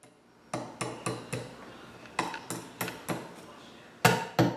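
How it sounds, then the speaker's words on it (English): Sharp metallic hammer blows ring out in uneven bursts, about nine strikes close by, pounding nails out of wooden window screen stops, with quiet pauses between groups. "Make sure to remove all the nails from the stops by striking the pointed end, pounding the nail out."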